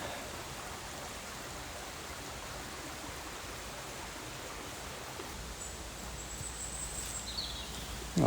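A river runs through a tumbled woodland landslip where fallen trees lie in the water, producing a constant broadband rush of moving water, steady and fairly close, with a few faint bird chirps near the end.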